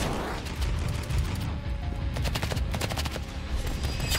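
A paintball gun fires in the Roblox shooter Rivals as rapid, crackling volleys of shots through steady game noise, running on without a break.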